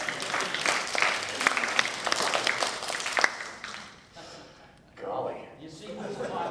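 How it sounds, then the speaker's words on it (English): A group audience claps loudly for a few seconds, then the applause fades away and a voice speaks briefly over the quieter room. "You see who's clapping, who's not clapping."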